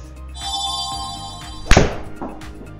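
A PXG 0311 Black Ops utility club strikes a golf ball with a single muted thunk, a soft, dull impact with little click, standing out briefly against low background noise.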